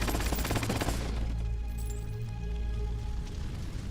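Gunfire in a Kojima video game opens with a dense, loud burst of rapid shots that fade out after about a second, leaving a low hum and faint tonal game sounds.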